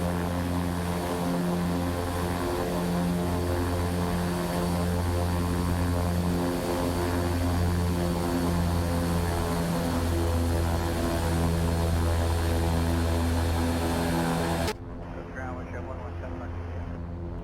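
A Beechcraft King Air 350 turboprop taxiing with its engines running, a loud, steady droning hum with strong tonal whine, heard close from inside the aircraft, continuous until an abrupt drop in level near the end.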